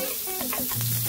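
Red onions and julienned carrots fry in avocado oil in a pan, giving a steady, close sizzle with crackling pops throughout a short stretch and no talk.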